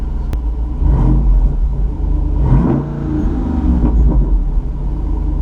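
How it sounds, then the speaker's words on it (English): A 2021 Jeep Wrangler Unlimited Rubicon 392's V8 revs repeatedly with its active exhaust set open, a deep, loud rumble rising and falling in several surges up close, with no speech. "we're going to get some nice exhaust sounds today"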